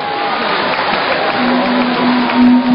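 Audience applause welcomes a Taiwanese singer onstage at a Spring Festival gala in Xianju, Zhejiang: a dense, steady wash of clapping held at full strength, with a faint sustained tone beneath it.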